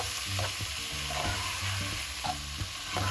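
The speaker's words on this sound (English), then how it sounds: "and next I'm going to add in the prawns to it. Mix everything well" Prawns frying in a pan for a South Indian moilee gravy, with a steady sizzle broken by repeated scraping stirs that come in short bursts, close and fairly loud.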